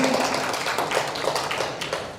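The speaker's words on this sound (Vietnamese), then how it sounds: "Cho thầy một tràng pháo tay đi" Applause from an audience at a press conference lecture, a dense, steady patter of many hands clapping together, fairly close and sustained without a break.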